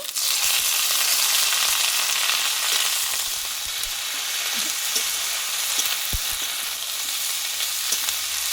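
Pumpkin leaves and stems hiss and sizzle with potatoes in a hot pan, a steady close frying crackle with a few soft utensil knocks and no talking.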